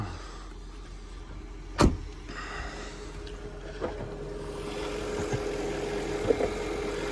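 A Jaguar X308 XJ8 Sovereign with a 4.0 V8 idles smoothly and quietly with about 37,000 miles on it, a low, steady hum with a sharp click or thump near the start and a few faint knocks later.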